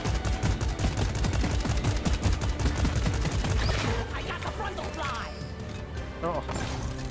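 Assault rifle fire in the co-op shooter Deep Rock Galactic, a dense stream of rapid automatic shots and impacts for several seconds that then thins out into scattered game sounds.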